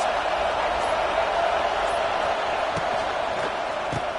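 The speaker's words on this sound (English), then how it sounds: "Listen to this crowd just shaking the girders of this place, trying to help their defense." Football stadium crowd roaring loudly and steadily to back its defense, a dense continuous wash of voices filling the stands for the whole stretch without letup.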